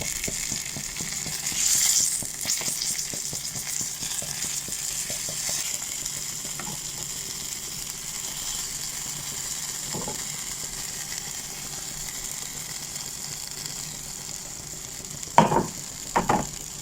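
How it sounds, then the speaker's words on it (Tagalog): Fried chicken pieces returned to a pan of marinade, giving a steady sizzle and bubbling hiss for the whole stretch, a few soft utensil clinks near the end and no talking. "Tapos ilagay na natin yung ating pinagprito na chicken."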